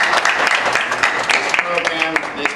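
A crowd gives a round of applause for Jeanette at a graduation day program, a dense burst of hand clapping filling the short span with voices mixed in.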